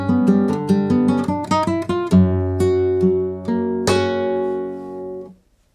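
A flamenco guitar plays a Soleá melodic phrase, clear and close, with quick plucked note runs, strummed chords and a final ringing chord that fades out, played solo without any voices.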